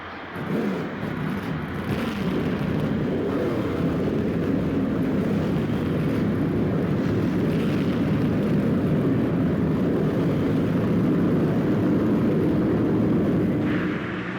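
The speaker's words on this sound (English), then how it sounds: "Gentlemen, start your engine." Race car engines in NASCAR Thunder 2004 roar together in a steady, loud, continuous rumble at the Dover night race start, the massed drone holding throughout with no speech.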